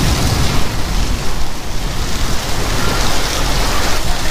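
Heavy rain pours steadily in a village downpour during a wheat-season storm, a loud, dense, continuous hiss close by with no talking.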